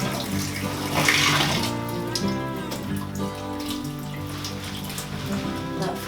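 Water running from a shower while a houseplant is watered, a steady loud splashing stream that holds through the whole stretch.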